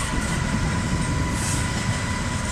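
Steady, loud rolling rumble from a GBRF Class 66 freight train with loaded Maritime container wagons pulling away from Eastleigh station, continuous wheel noise with faint clatter and a brief hiss.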